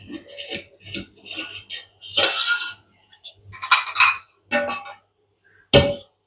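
A spoon clinks against a cooking pot of boiling vegetables, giving several short, sharp metallic taps in irregular bursts separated by brief pauses, close and fairly loud.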